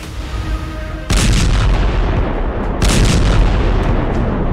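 Israeli bombs striking Hezbollah positions, two heavy booming blasts about two seconds apart, each a loud sudden burst that rolls on, alone without talk.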